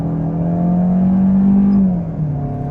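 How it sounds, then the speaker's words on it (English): A 2023 Kia K5 EX pulls onto a multi-lane highway and accelerates hard, its engine drone climbing steadily in pitch before easing off as the gear shifts, loud and close with no talking. "we'll take a step out onto this multiple lane highway, open her up a little bit"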